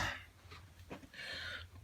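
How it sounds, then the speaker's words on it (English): A single person coughs and clears their throat a few times while working on a large McDonald's employee pin collage board, short rough bursts close to the microphone with quiet gaps between them. "Don't want to cough in the camera."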